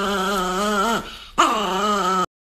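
A Chihuahua dog whimpers and yips close up on a cold floor, giving two long, high, wavering whines split by a short gap, then a sudden cut to silence.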